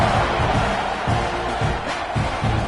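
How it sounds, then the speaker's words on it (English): A crowd roars and cheers steadily in a college football video game at a Texas A&M home game against Auburn, a loud continuous wash of stadium noise. "this crowd is feeling themselves after that last drive"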